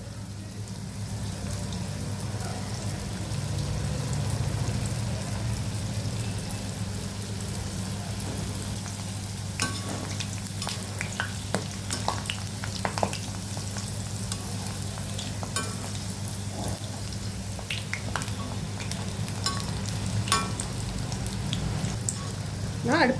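Steamed chicken momos with wheat-flour wrappers fry in hot oil over a low flame: a constant, rain-like crackling sizzle that holds steady, with scattered sharper pops toward the end.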